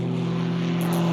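A propeller aerobatic airplane flying, its engine drone loud and steady throughout with strong low harmonic tones and no voices.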